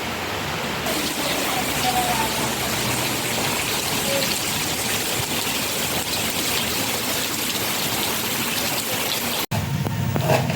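Steady heavy rain pours down in the monsoon, a dense continuous hiss close by that runs almost unbroken for the whole stretch.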